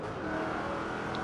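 A Jaguar car in Forza Horizon 2 accelerates, its engine giving a steady, fairly loud drone with no voices over it.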